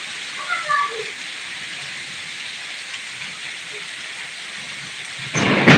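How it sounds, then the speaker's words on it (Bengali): Heavy rain pours down in Narsingdi, Bangladesh, a steady close hiss of drops on surfaces with low thunder rumbling underneath, a louder gust of rain and thunder swelling at the end. "নরসিংদীতে প্রচুর বৃষ্টি হচ্ছে।"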